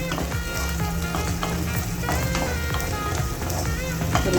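Masala sautés in oil in a pan, a dense continuous sizzle with spattering pops and faint scraping, close and fairly loud, without talk.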